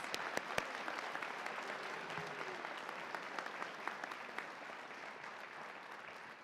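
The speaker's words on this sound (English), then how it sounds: "So let's give everyone a round of applause." A high school honors night audience gives a long, steady round of applause for the assistant principals and school staff, with dense clapping from a large crowd holding at an even level throughout.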